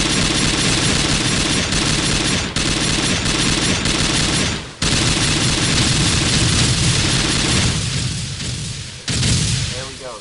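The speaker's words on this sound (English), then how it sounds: "That was 35 rounds of AA12 high explosive." Full-auto fire from an AA12 shotgun loaded with high-explosive rounds in DayZ, a dense, continuous barrage of loud blasts with a few brief breaks, thinning out near the end.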